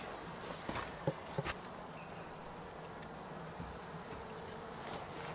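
Honey bees in a hive moving over frames partly stored with syrup, giving a steady, faint buzzing hum that runs the whole time, with a few soft knocks and taps near the start.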